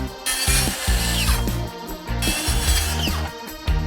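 A power saw cuts a timber deck post to length outdoors, a loud continuous whine with short breaks and restarts over about four seconds, no voices.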